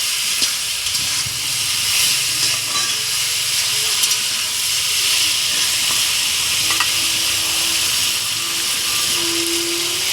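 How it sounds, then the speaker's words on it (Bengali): Fried potatoes and drumstick pieces are stir-fried for a poppy seed curry, giving a steady, close sizzle and hiss with occasional stirring scrapes and clinks throughout. "দিয়ে দেবো ভেজে রাখা আলু আর সজনে ডাঁটাটা"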